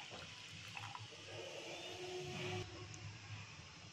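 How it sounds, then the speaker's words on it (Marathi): Water splashes and pours into a pan, a soft running gush with light clinks, fairly quiet and without voices. "आता एका कढईमध्ये आपल्याला हे पाणी घालायचं आहे"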